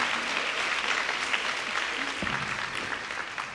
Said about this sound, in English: I always want to encourage a hearty hand clap for Leslie and her vision regarding Women of the Dream.